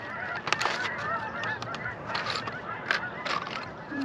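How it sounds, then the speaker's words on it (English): A flock of geese honks repeatedly outdoors, a busy chorus of overlapping calls at moderate distance with no talking. "It's like a goose extravaganza going on over there."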